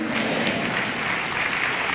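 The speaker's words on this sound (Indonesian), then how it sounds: "Kita beri tepuk tangan untuk Tuhan." A church congregation applauds in a dense, sustained clatter of many hands clapping together, loud and steady throughout with no speech over it.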